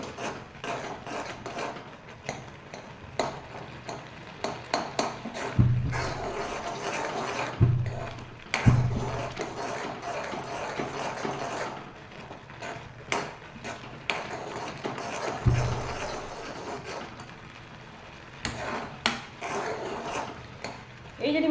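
A spoon scrapes and rubs in a pan as a sweet milk-and-paneer mixture is stirred, making soft irregular scraping with occasional sharper knocks against the pan, fairly quiet and close.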